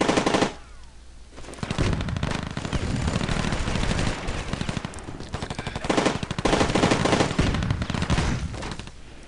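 Sustained bursts of Sawgunner machine-gun fire in the iOS war game Rivals at War Firefight, loud and dense with rapid repeated shots and brief pauses between volleys.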